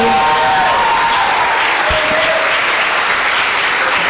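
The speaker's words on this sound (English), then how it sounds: "A big round of applause for Amara Devi Dasi." A crowd claps loudly after a drama performance, dense applause ringing steadily from start to end while fading music tones trail off underneath.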